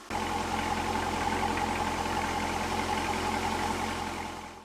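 A 2004 C5 Corvette with an aftermarket exhaust sits idling close by, a deep, mellow, steady rumble that holds even and loud throughout before dropping away at the very end, with no voices.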